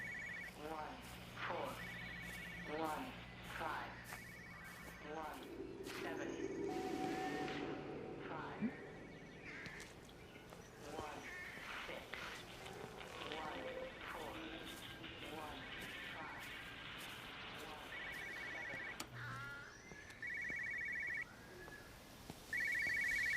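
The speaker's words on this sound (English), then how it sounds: "Okay, that phone definitely sounds nearby." Telephone ringing nearby in the game Everybody's Gone to the Rapture, a repeated electronic ring in steady bursts with game ambience and some speech around it.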